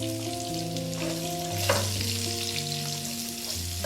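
Two medium-sized roughly chopped onions sautéing in a pan with cloves and cardamom for dhaba-style shahi paneer, a steady soft sizzle with a stirring scrape, accompanied throughout by sustained background music tones.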